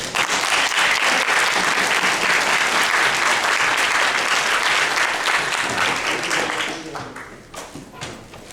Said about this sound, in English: Final round of applause for all the speakers.